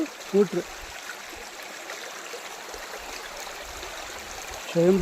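Steady rushing flow from a natural spring deep in a forest, a continuous broadband wash of water at moderate level, with brief faint voices near the start and end.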